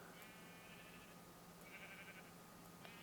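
Short digital sheep bleats from a video game flock, a couple of faint nasal calls rising over a steady low background hum, fairly quiet and without talk.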